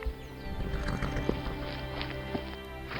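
Wild Nevada mustangs whinny loudly and close by while hooves clop and shuffle on the ground, with several neighs rising over a steady background rumble.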